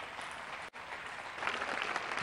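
An audience at a crusade gathering claps, a dense wash of applause with a brief dip and then swelling louder toward the end.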